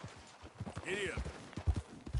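Horse hooves clip-clopping in a galloping rhythm in the Red Dead Redemption 2 video game, with a rider calling out and talking over the steady beats.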